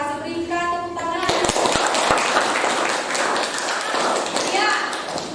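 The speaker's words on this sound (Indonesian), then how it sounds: "Berikan tepuk tangan." Students in a classroom break into a burst of applause, dense clapping that carries on for several seconds, with voices talking over it.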